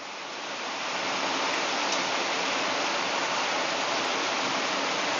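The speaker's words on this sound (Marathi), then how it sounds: "या झाडावरती पडणारा पाऊस एकदम तुफान असा पाऊस आलेला आहे" Heavy monsoon rain pours onto trees in Pune as a dense, steady roar that swells in the first second and then holds evenly throughout, with no voices.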